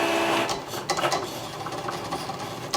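A Cricut Explore 3 cutting machine draws with a pen, giving a steady mechanical whir and buzz of fast carriage movements, with small clicks and shifts in pitch, close and moderately loud.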